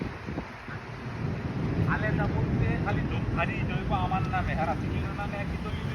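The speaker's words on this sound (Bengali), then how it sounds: "ওইদিকে প্রচুর বাতাস এই বাড়ির ওইদিকে" Strong wind roars steadily into the microphone beside a house in Saudi Arabia while people talk underneath it.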